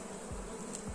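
Honeybee swarm humming steadily at a hive box, a continuous close buzz with a couple of louder passes near the microphone.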